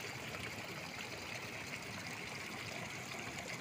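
Hot spring water flows at Tapoban in Bajhang, Nepal, in cold winter weather, a faint, steady trickling and gushing that continues evenly without pause and without any voices.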